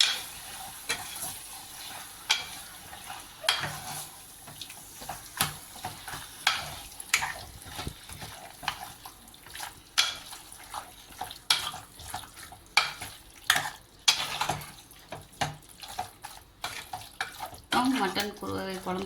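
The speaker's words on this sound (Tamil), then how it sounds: "கழுவி வச்ச மட்டனை ஆட் பண்ணிக்கலாம். நல்லா மிக்ஸ் பண்ணி வச்சுக்கலாம்." Washed mutton is stirred and mixed in a pan for mutton kulambu, with repeated sharp scraping and clattering strokes over a faint sizzle and irregular, close, moderately loud knocks throughout.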